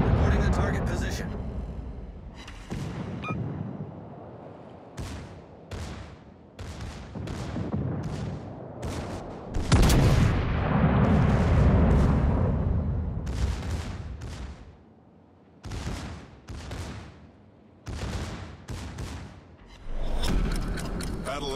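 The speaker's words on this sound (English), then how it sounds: "All stations requesting fire on the designated target." Artillery fire on a target in a video game: a dense, rumbling barrage of blasts swells in the middle of the passage, mixed in with repeated spoken radio-style announcements.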